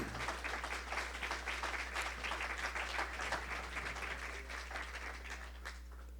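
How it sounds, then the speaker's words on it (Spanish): A church congregation applauds during a minister's day service, steady dense clapping held for several seconds, somewhat distant with a low hum underneath, tapering slightly at the end. "Den un aplauso al Señor"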